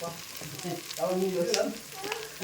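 Tomatoes fry in a pan with salt being added, producing a faint, low sizzle with some light stirring and scraping scattered across the short stretch.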